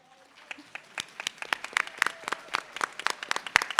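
Audience members at a climate summit applaud students, scattered claps quickly building into brisk, irregular clapping from a modest crowd, with a voice briefly heard at the start.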